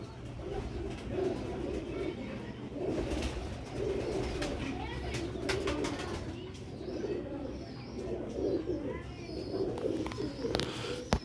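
Ferozpuri pigeons from a long-kept breeding line coo in low, rolling phrases that repeat through the clip, with a few brief flutters. Someone talks over the birds.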